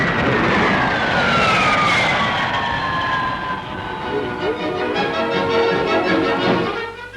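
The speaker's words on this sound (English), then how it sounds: "the world-famous long-range jet airliner de Havilland Comet has a cruising speed of 490 miles an hour" A de Havilland Comet long-range jet airliner flies past at an air show, a loud continuous roar with a high whine that slowly falls in pitch as it passes, then a rougher rumble.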